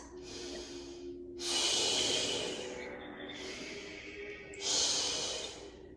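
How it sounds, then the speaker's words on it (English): A person breathes deeply while holding a Pilates plank, with two long, forceful exhales through the nose and mouth, close and alone, separated by quieter breathing. "Give me 3 breaths."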